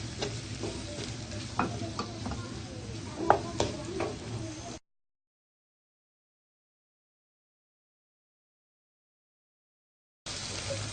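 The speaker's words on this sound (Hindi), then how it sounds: "ये मसाले हम सारे मिक्स कर देंगे, अच्छे से हम भून देंगे।" Spiced masala of salt, turmeric, coriander powder and red chili sautéing in a pan, with soft sizzling and scraping stir strokes for several seconds before a long silent gap, then sizzling again.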